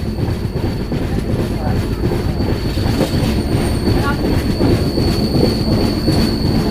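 The Kanchan Kanya Express from Sealdah rolls into New Mal Junction with a continuous heavy rumble of wagons, high wheel squeal and faint clatter, loud and close throughout.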